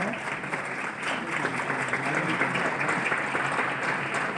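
Steady applause fills an honour ceremony at an NSTI Ludhiana programme as guests are brought on stage, a dense crowd clapping continuously at moderate loudness with a murmur of voices beneath.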